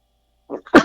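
A single sneeze sounds up close: a short intake of breath followed by a sharp, loud burst that quickly fades.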